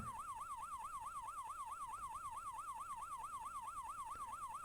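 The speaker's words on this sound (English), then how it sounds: "That, of course, is code 3, responding with lights and siren." A police siren wails in a rapid, regular up-and-down warble, steady and unbroken for several seconds, in the video game Police Quest 1.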